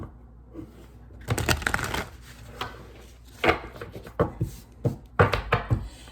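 Tarot cards riffle and shuffle in several quick bursts, crisp papery flutters separated by softer handling noises and taps.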